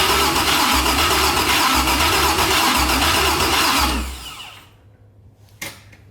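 An LS-swapped Mazda Miata cranks on its first startup attempt with a loud, rhythmic chug of the starter for about four seconds. The engine does not catch, then the sound cuts to near silence with one brief click.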